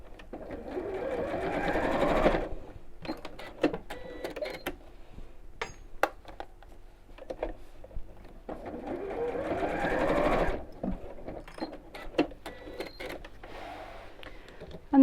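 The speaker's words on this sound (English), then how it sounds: "let's just sew those in place" A sewing machine stitches a child's backpack fabric in two steady whirring runs separated by a pause filled with small clicks and handling noises.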